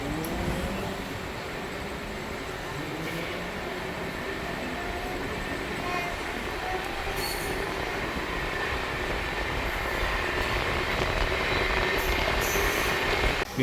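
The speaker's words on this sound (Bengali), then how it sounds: "বলতে না বলতেই আমাদের ট্রেন ছেড়ে দিল এবং আস্তে আস্তে তার স্পিড ধরে নিল।" The Howrah–Jaleswar MEMU local train pulls away and gathers speed, a continuous close rumble of wheels and carriages building slowly in loudness, with faint squeals and rising motor whine.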